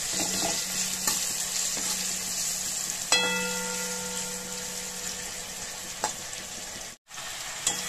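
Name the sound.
raw mango frying with salt and turmeric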